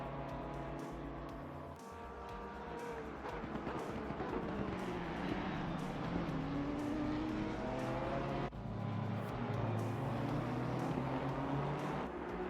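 A BMW GT4 race car engine in a racing simulator drones steadily and loudly, its pitch rising and falling through gear changes, with no talking.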